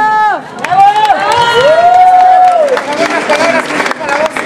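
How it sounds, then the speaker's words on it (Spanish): A crowd at an awards ceremony applauds and cheers loudly and continuously, with shouts and whistling voices rising over dense clapping, close and energetic throughout. "un aplauso a estos cabrones que se merecen"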